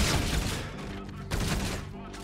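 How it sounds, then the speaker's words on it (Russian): Shotgun fire in Call of Duty: Infinite Warfare rings out in an enclosed room as loud, booming blasts that fill the whole short stretch with dense, rolling gunfire. "Слушайте, дробовик в таких помещениях вообще класс"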